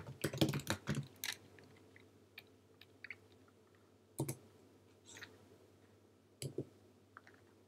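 Sparse keystrokes tap on a computer keyboard while text is entered for a Cricut design, a quick cluster at first and then scattered single clicks over a low steady hum.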